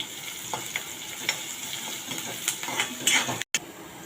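Chopped onion with curry leaves and green chillies sautéing in a pan for a simple vegetarian meal, a steady close sizzle broken by repeated scrapes and clinks of the stirring spoon against the pan.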